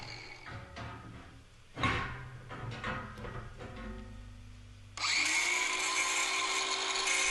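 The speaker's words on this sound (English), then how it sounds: "Going to grind off the paint areas so when I weld it, I'm not welding to paint." Paint being ground off metal before welding, with a few knocks and clunks early on and then a loud, steady, high power-tool whine that runs to the end.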